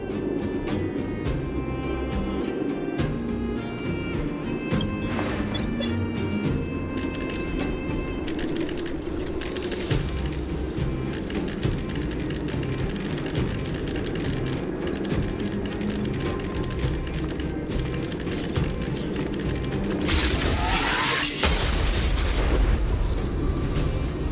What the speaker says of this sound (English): trigger an explosion to disperse the disruptive workers